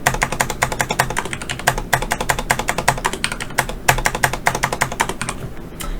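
Rapid, continuous typing on a computer keyboard while entering data into an Excel spreadsheet, with crisp, close key clicks in quick uneven bursts and a few heavier strokes, no talk.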